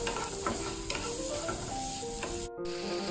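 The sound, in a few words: garlic sautéing in a skillet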